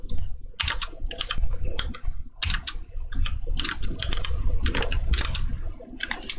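Fast, continuous typing on a computer keyboard, with close, clattering keystrokes running almost without pause and only brief gaps.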